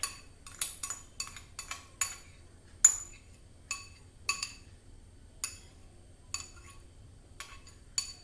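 A bowl is set down on a kitchen surface while making a black rice sushi dome, giving a series of sharp ceramic clinks and taps, spaced irregularly and fairly close, with no talking.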